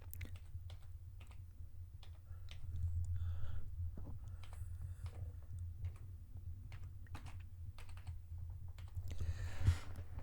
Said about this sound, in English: you should be able to come up here and type in a name for your watch list